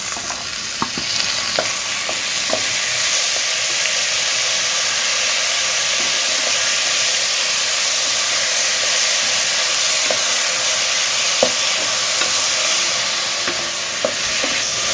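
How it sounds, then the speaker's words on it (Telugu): Lentils frying in a pan with cucumber pieces added sizzle and hiss steadily for a long stretch, a loud continuous crackle with occasional faint clicks from stirring and no voices. "ఇప్పుడు మనం ఇందులో కీరా దోసకాయ ముక్కల్ని వేసుకుందాము"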